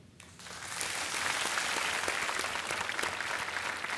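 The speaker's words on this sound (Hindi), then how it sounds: "तालियां बजती रहें देवियों सज्जनों" A studio audience at a televised quiz show breaks into applause, clapping swelling quickly and holding as a steady, dense wash of many hands.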